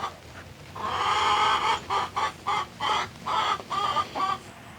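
Chickens in a farm coop cluck and squawk nearby in a loud run of short repeated calls, with a longer opening cry followed by about eight rhythmic bursts.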